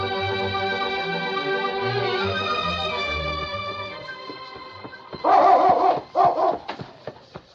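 A dog barks in a radio drama sound effect, loud and close, with a few sharp barks and whines near the end after a stretch of music.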